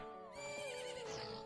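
Horse whinnying in a Zelda game, a high, wavering neigh with strong harmonics rising and trailing off over about a second, loud and close, ending in a brief sharp burst.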